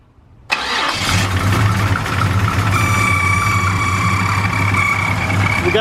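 A 1974 Nova's engine fires up on a newly installed, still untuned carburetor, catching abruptly and settling into a loud, steady, close-up idle with a constant low rumble.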